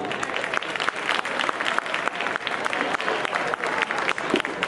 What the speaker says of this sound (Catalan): un aplaudiment per a les 4 bandes que han estat avui així